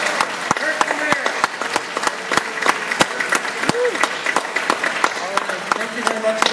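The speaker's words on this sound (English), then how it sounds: "another round of applause for the candidates for the leadership of the Conservative Party of Canada" A theatre audience at a Conservative Party of Canada leadership debate in the Vogue Theatre, Vancouver, claps in loose, scattered bursts while someone speaks over it.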